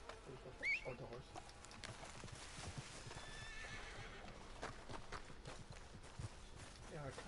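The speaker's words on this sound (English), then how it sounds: "Oh, the horse." A horse in a PS4 video game neighs sharply near the start, followed by steady clip-clopping hooves, all fairly faint.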